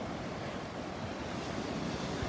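Gulf surf breaking on the sand at Delnor-Wiggins beach, an even, steady rush of waves with light wind noise, close and moderately loud, no voices.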